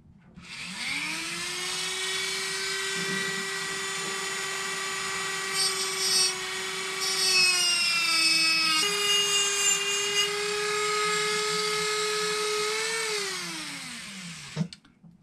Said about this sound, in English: So these are little small sanding pads that go on your Dremel.